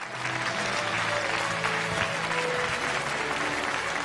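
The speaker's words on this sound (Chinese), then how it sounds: "来，掌声有请。" A studio audience at a televised award presentation bursts into dense, sustained applause to welcome a guest onto the stage. The clapping stays full and continuous from start to finish.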